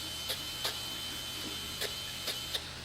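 An electric fish scale remover running steadily with a constant motor whine, with faint rhythmic ticks from the blade scraping scales at uneven intervals.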